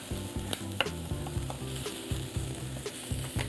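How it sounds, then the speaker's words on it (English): Red onion stir-fries in a pan, sizzling steadily with a constant hiss and a pulsing low rumble, joined by occasional sharp clicks of stirring. "So we're going to stir fry that and let that cook a little bit."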